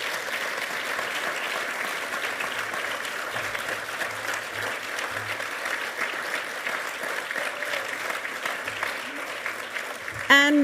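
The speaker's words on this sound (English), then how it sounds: "A round of applause, please, for everybody." An awards ceremony crowd at the Victoria Australian of the Year Awards applauds the nominees. The clapping is even and continuous, moderately soft and somewhat distant, and a voice cuts in just at the close.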